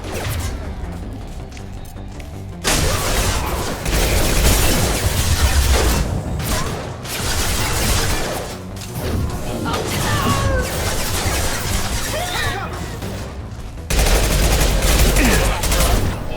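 Rifle fire in Mass Effect Legendary Edition combat, with bursts of rapid gunshots and booming impacts in dense, loud sections separated by brief lulls, mixed with game sound effects.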